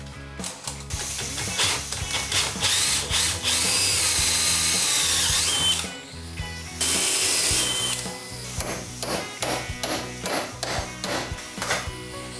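A power drill with its widest bit whirs loudly in several long bursts during boat restoration, with clattering and tapping between runs, close by.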